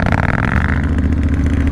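A motorcycle exhaust revs loudly and close up during an off-road ride at a motorcycle festival, a continuous throaty engine roar throughout.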